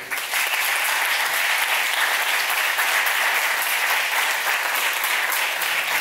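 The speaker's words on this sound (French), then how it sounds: "vous demander de m'aider à applaudir chaleureusement pour le comité d'organisation" Steady, warm applause from an audience at a book dedication event honoring the organizing committee, even and continuous from start to finish with no voices over it.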